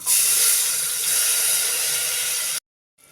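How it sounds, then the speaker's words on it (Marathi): Tomatoes hit a hot pan of oil seasoned with turmeric and asafoetida for mung dal, giving a loud, bright, steady sizzling hiss that cuts off abruptly near the end. "आता यामध्ये आपल्याला टोमॅटो घालायचा आहे"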